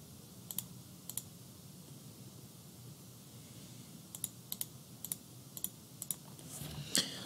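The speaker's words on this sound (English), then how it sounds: "I'm just clicking once on the question mark to get 0, clicking twice to get 1," Sharp clicks of a computer mouse used to set inputs while programming a PLD birthday circuit, coming as single and double clicks spaced irregularly over a quiet room hum, fairly close and crisp.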